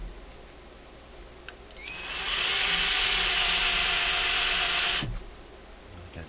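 A plug-in electric drill spins up with a rising whine, runs loud and steady for about three seconds while boring, then cuts off abruptly, leaving a quiet room with no voices.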